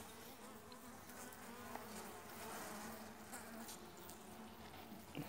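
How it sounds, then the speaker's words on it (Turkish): Honeybees buzz steadily inside a hive during an inspection of a weak colony, a dense, faint, continuous hum with no voices. "Polen getirip koyuyor."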